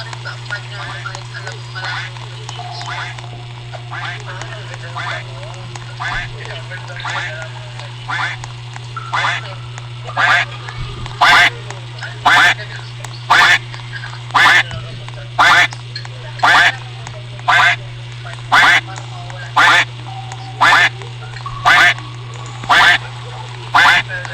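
Cartoonish duck quacks from a Roblox detention-escape game repeat in a steady, loud series of short bursts, about one per second, over a constant electronic hum, with voices and game noise earlier on.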